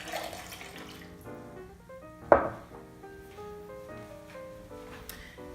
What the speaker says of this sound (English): let's pour it into a glass so you can kind of see it.